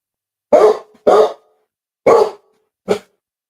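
An old dog barks four times, loud and close, in a quiet room: two quick barks, a pause, a third, then a shorter final one.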